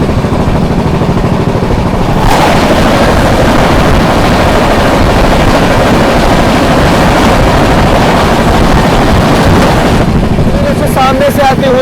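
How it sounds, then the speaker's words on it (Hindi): The Rewa–Anand Vihar superfast express passes close by an Indian Railways train, giving a loud, steady broadband rush and rumble for about eight seconds that starts and stops abruptly, with quieter running noise before and after. "सामने से आती हुई Rewa Anand Vihar super fast express"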